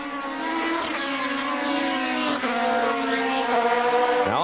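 Formula 3000 race cars at the 2002 Austrian round, running wheel to wheel through the Remus curve, their engines wailing loud and close with rising and falling pitch sweeps as they pass through the bend.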